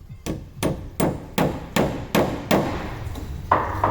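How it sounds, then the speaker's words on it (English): Nails are hammered into hardwood decking in about nine steady, evenly spaced blows, each a close, loud, solid thud with some ring. No one speaks. "I want to put a nail in"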